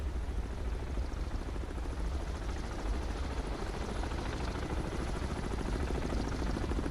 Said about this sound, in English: See what this helicopter does in an attempt to repair the radar mast.